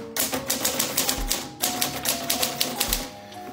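A portable typewriter from the 1970s–80s struck with a light touch, giving a steady run of crisp, fairly close key clacks in quick rhythm, with a short pause midway before the typing resumes.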